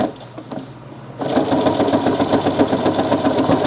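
After a quiet second, a sewing machine starts stitching reinforcement stitches on a fabric pouch, running steadily with a close, rapid, even mechanical whir and patter.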